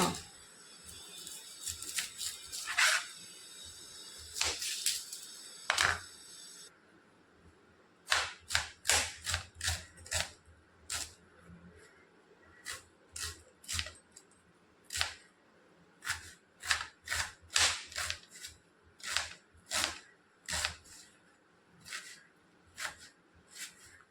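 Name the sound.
knife cutting onions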